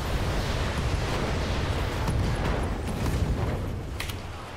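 A BattleTech mech in a video game firing all its weapons at once, a dense sustained roar of blasts and explosions rumbling continuously with a few brighter cracks near the end.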